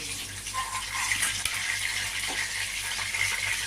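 Pieces of aar fish frying in oil in a pan, lightly reddened on both sides, give a steady, even sizzle with a few faint clinks.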